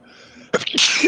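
A single sharp sneeze bursts out close by after a brief stretch of quiet room tone, loud and abrupt.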